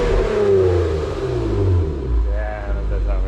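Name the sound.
car engine revving with new exhaust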